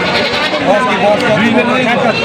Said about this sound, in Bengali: এটা কি জাতের খাসি